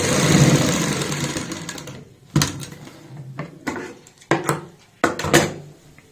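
Sewing machine stitching fabric: a steady whirring run of stitches, then a few short bursts separated by sharp clicks and pauses, close and alone.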